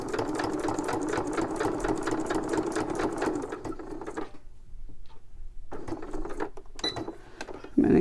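Rapid close stitching from a sewing machine runs for about four seconds as it sews a tag onto junk-journal material, stops briefly, then resumes in short bursts with a faint click near the end.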